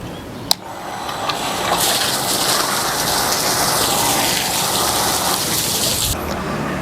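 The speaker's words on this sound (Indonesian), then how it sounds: "sekarang kita akan nyalakan 3 pompa ya" Three parallel water pumps switched on, a click followed by water gushing loudly and steadily from the piping, a dense continuous rushing that swells after a moment and then eases slightly near the end.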